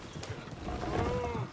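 Horse hooves clip-clop on a ground track while riding in Red Dead Redemption 2, a quick run of close, moderately loud hoofbeats.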